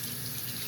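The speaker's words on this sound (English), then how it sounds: "I'm rinsing off my hand, guys, so just a heads up." A steady hiss of tap water runs as a hand is rinsed beneath it, close and continuous for a brief moment with no talking.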